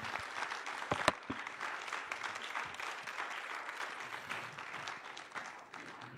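Audience applause after a panel talk on critical thinking and peace education, a moderate wash of clapping hands with a few sharper claps standing out near the start, then settling into a steady, fairly faint patter.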